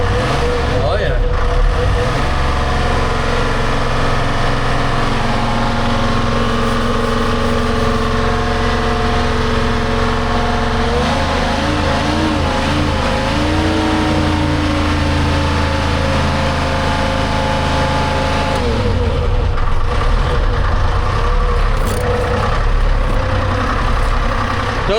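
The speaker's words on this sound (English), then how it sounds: "Does seem to be idling better." A loud, steady Detroit diesel engine swapped into a telehandler, idling up close, a continuous low rumble with a slight shift partway through and no clear voices.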